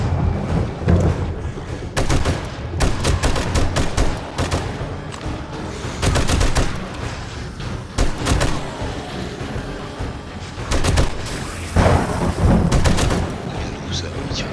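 Repeated gunfire from an M60 machine gun during a zombie horde night in the video game 7 Days to Die, with loud bursts and single shots scattered across the clip over a dense, rumbling game soundscape.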